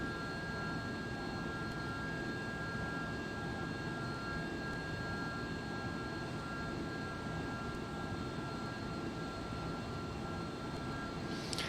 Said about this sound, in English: The engine sounds are... yeah. I don't like it.